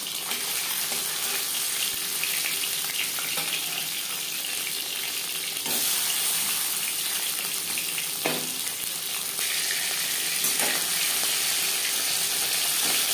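Hilsa fish fries in hot mustard oil with a steady, bright hiss of sizzling that carries on close and even, broken by a few soft knocks. No one speaks.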